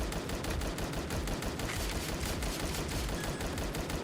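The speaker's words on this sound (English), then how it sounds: "Bren, light machine gun" Bren light machine gun fire in a roguelike shooter video game: a dense, continuous rattle of rapid shots that stays loud and steady for about four seconds, with no talking.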